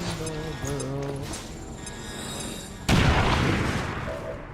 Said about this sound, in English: Unload every single grenade that we have into this one spot over here, please